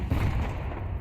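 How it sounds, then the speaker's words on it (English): A flashbang grenade goes off in the FiveM video game: one dense, booming burst that fills the whole moment, loud and close. "Throwing flashbang."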